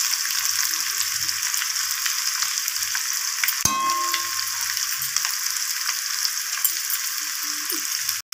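Boiled potatoes tossed into hot oil with turmeric, a bright continuous hiss of frying with a metallic clang midway and occasional stirring taps, close and steady.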